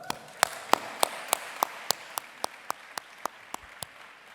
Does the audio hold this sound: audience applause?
yes